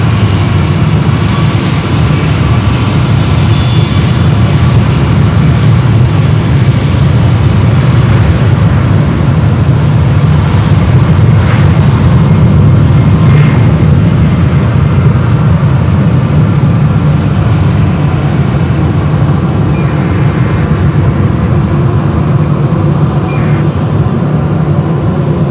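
A Caribbean airliner at Fort Lauderdale airport gives a loud, continuous jet engine roar that holds steady for the whole span, with a faint pitched whine above it.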